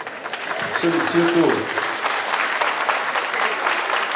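Audience applause at a 2016 mayoral candidates' debate in Mendes, steady clapping from the crowd throughout while someone speaks over it.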